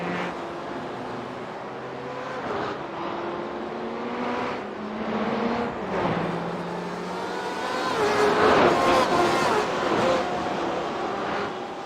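Race cars lapping the Charlotte Roval at night in a sim racing series, engines droning and shifting pitch as they pass. A louder surge comes late, with what sounds like commentary running underneath.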